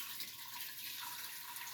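Chicken soup is poured from one pot into a fresh pot at home, making a steady, continuous liquid splashing and gurgling at close range.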